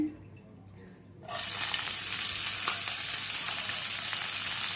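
Coriander stems drop into hot oil in a pan, and after a quiet second a loud, dense frying sizzle bursts up and keeps going strongly, close by, with no voices.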